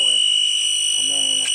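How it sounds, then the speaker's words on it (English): An old VCR's tape motor strains and needs oil, giving a steady, loud, high-pitched whine close by. A voice talks over it briefly at the start and end. "That's this motor that's getting very angry there. Sounds like it needs some oil."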